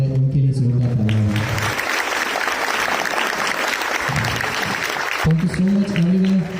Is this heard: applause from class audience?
yes